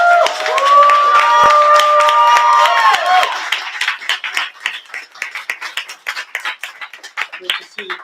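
Audience at an open mic night claps and cheers to welcome a performer, with a loud sustained whistle and shouts at first, then thinning into scattered hand claps toward the end.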